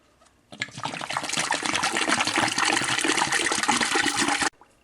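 Vinegar, two quarts of it, pours in a steady gushing stream for about four seconds while sweet pickle brine is made, starting and stopping abruptly, close and fairly loud with no talking.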